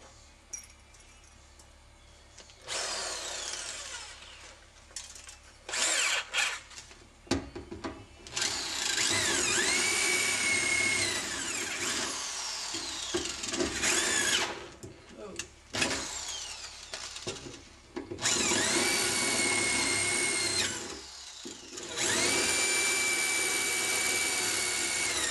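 Power drill boring through the front inner structure of a van, coming in several loud, sustained bursts with a whining pitch, separated by pauses with clanks and handling noise; voices talk in between.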